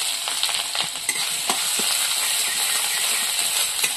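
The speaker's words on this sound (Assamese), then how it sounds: "এতিয়া এই তেল আছে এতিয়া প্ৰথমে দি দিলে আদা নহৰু অকণমান" Chopped ginger and garlic fry in hot oil with a continuous bright sizzle, broken by scattered clicks and scrapes of stirring, close up and steady throughout, with no voices.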